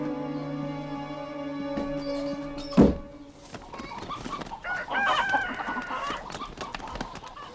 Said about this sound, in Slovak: Nechá ho plašiť sliepky.